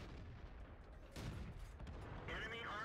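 A T64 tank gun fires in World of Tanks, one heavy muffled boom near the middle followed by a lingering rumble, with low background noise and no clear talk.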